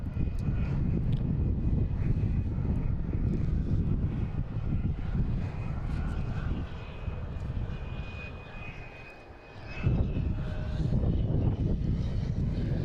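Cape Air airplane at Boston Logan International Airport on an April Sunday afternoon, a steady loud engine roar that dips briefly and then swells back, with no talk over it.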